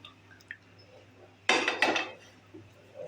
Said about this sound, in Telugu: టేబుల్ స్పూన్ దాన్ని ఈవెన్గా స్ప్రెడ్ చేసుకుందాం ఆయిల్